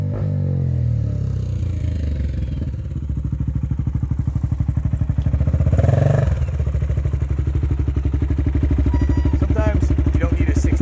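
A Honda XR250 four-stroke dirt bike ridden around a house, its engine a loud, close, steady thumping drone that swells and revs midway, with rattling and scraping under a voice.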